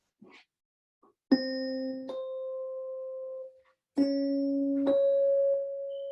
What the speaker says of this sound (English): So an octave sounds like this.